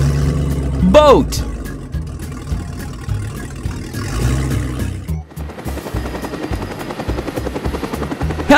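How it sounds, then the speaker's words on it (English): A helicopter's rotor thumps steadily and loudly amid busy background noise, with a brief rising whine early on and sharp clattering later. "Helicopter."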